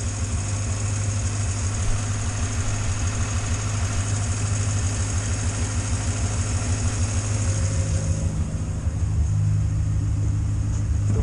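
Morris Minor engine idling steadily and close, a continuous low rumble with a faint timing chain rattle, its tone shifting slightly near the end.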